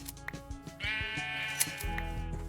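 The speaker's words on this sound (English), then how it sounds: "This is holy sheep land!" Repeated sheep bleats in a Minecraft world, a flock heard as several short wavering cries close by, overlapping with one another and rising over a steady game background.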